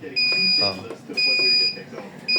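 Zamdon inverter sounding its low-voltage alarm: three repeated high electronic beeps in an even on-off rhythm, close and clear, with someone talking underneath.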